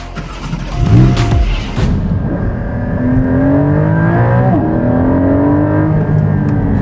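A Porsche Cayman GT4 Clubsport's 4-litre naturally aspirated flat-six revs loud and close, a sharp blip followed by a rising, sustained howl that climbs through the gears with no talk over it.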